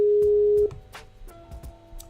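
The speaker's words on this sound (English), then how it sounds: "And Skype dropped the call." As a Skype call drops, a steady electronic tone sounds for just over half a second, then stops, leaving faint clicks and low background noise.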